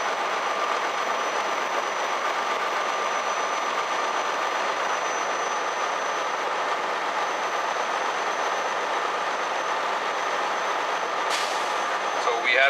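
Air brake system purge on a truck while the engine is revved to about 1000 rpm, a steady loud engine drone followed near the end by a sudden sharp burst of hissing air.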